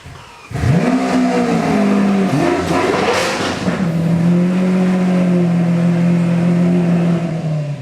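A modified Lamborghini engine revs up loudly, rising and falling in pitch, then settles into a steady, sustained high roar.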